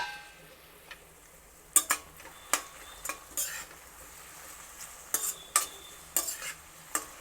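Tomato pieces are stirred in a frying pan for a mess-style beetroot fry, giving a soft background sizzle broken by a series of sharp spatula scrapes and taps against the pan in an uneven rhythm.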